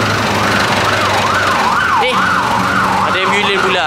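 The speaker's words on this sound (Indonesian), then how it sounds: "Ada ambulans pula." A wailing ambulance siren sweeps up and down in steady cycles, loud and passing close by on a road, with the pitch shifting as it goes, alongside a truck with its engine running.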